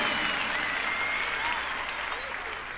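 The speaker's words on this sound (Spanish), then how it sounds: "Ayúdame con tus palmas aquí." A 1997 concert audience claps along, a steady wash of many hands sounding somewhat distant and soft, with faint tones in the background and the clapping easing slightly toward the end.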